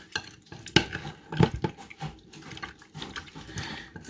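Honey-and-pork marinade being stirred in a bowl, with a few sharp clinks of a utensil against the bowl and soft wet mixing sounds in between, close and moderately loud.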